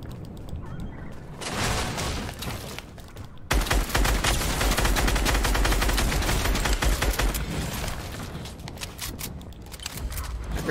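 Rapid bursts of Fortnite gunfire fill most of the stretch, loud and dense with a sharper, heavier volley in the middle, and no talk over it.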